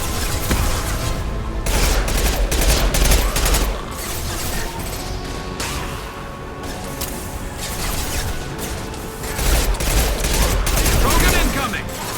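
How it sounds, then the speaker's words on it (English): Gunfire crackles through a Mass Effect 2 firefight, with repeated sharp shots and bursts in uneven clusters, loud and close, and occasional combat chatter mixed in. "Firing a high-impact shot."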